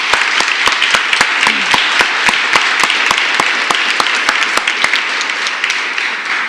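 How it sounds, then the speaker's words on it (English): Steady applause from an audience at a Women's Day celebration event after a national anthem performance, dense clapping with sharp individual claps standing out, continuous and fairly loud throughout. "let's join in a round of applause for her"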